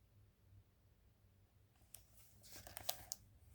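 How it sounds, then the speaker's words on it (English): Paper crinkles quietly in a short burst of rustling, a few sharp crackles close by after a faint, near-silent start. "There's Gus's crinkly paper."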